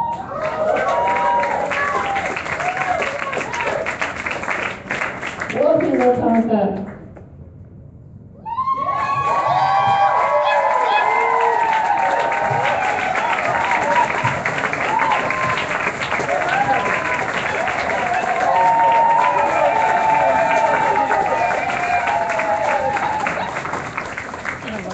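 Crowd at a Dakota Access (Bakken) pipeline public hearing breaks into loud sustained applause and cheering, briefly dipping after a few seconds before swelling again, with a voice speaking a short welcome over it.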